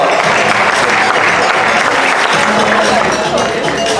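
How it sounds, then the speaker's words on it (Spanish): Loud, dense applause from the audience at a cosplay costume contest at a comic convention, continuous crowd clapping filling the whole stretch with busy crowd noise underneath. "Un aplauso para ellos."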